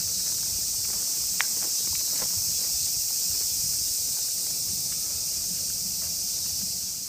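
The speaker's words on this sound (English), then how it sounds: "Cicadas are so loud today." Cicadas in Harajuku, Tokyo, keep up a loud, continuous high-pitched drone throughout, with a few faint footsteps and light ticks underneath and no talking.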